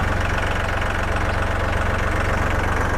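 A used Iseki NT540 tractor with a dozer blade idles steadily, its diesel engine running loud and close with an even, low, knocking throb throughout.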